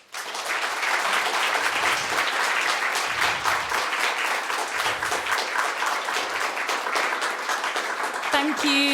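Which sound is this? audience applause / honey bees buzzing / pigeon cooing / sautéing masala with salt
audience applause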